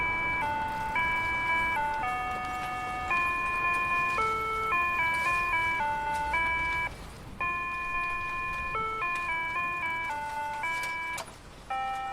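A pedestrian crossing signal in Yokosuka, Japan plays Coming Through the Rye, a simple, bright electronic melody in steady beeping notes, repeating with a short pause, over faint street background.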